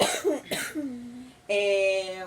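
Two sharp coughs close to the microphone, followed by a short strained vocal sound and a held voiced tone.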